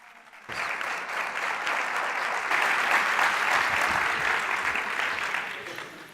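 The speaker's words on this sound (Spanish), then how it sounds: "Un fuerte aplauso para ellos, por favor." A conference audience breaks into sustained applause, steady and full for several seconds before starting to taper off.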